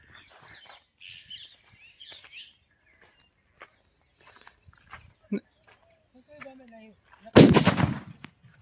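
A few scattered faint noises and short pops, then one loud, sharp firecracker blast near the end with a brief crackling tail.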